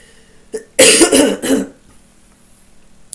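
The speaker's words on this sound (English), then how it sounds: "I seem to be coughing a bit more" Two or three loud, close coughs in a brief burst after a small throat sound, then quiet room tone.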